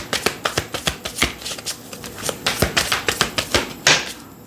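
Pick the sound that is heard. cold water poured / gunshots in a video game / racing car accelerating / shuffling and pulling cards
shuffling and pulling cards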